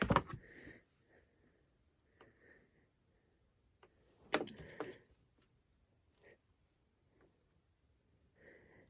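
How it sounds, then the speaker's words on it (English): Rotary cutter slicing the selvage edge off quilting fabric, a few short crisp strokes scattered across a quiet space, close and faint with ticking clicks between. "I'm just going to cut off my selvage here"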